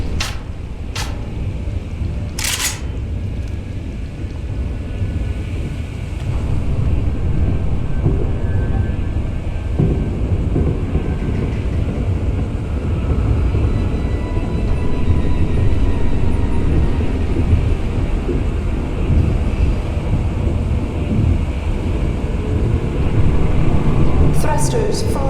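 Submarine thrusters and ballast tanks in the video game Deus Ex: Human Revolution make a steady, deep mechanical rumble that swells slightly partway through, with a few faint clicks over the continuous drone.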